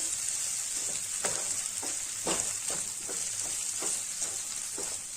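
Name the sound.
corn dish being sautéed in a pan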